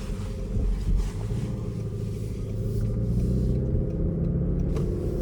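A 2025 Toyota Crown Signia XLE hybrid on the road, heard as a steady low cabin rumble of tyre and road noise with a little wind, constant throughout and with no talking.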